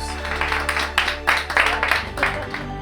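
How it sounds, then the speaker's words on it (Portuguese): Applause from a small group rings out in uneven bursts of hand clapping, close and fairly loud, rising and falling over a few seconds alongside a low steady hum. "Mas o que na Itália é considerado arte merece até aplausos."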